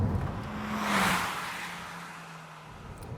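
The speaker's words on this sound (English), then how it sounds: "If I accelerate now, you can hear it's just a total contrast to the quietness of the car" A 2013 Toyota Auris engine revs up in a coarse, unrefined, droning rise, swelling louder then settling into a steady hum as the car accelerates.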